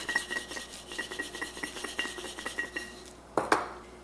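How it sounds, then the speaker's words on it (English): Hands rubbing salt and pepper into a raw turkey breast, a close, soft series of rhythmic rasping rubs, followed by a couple of sharper clinks near the end, with no talking. "And kind of rub it in."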